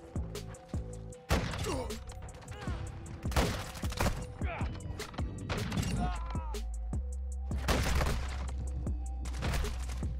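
Rapid gunfire bursts and heavy impacts crackle through a Modern Warfare II sniper match, dense and loud, with voices talking over the action throughout.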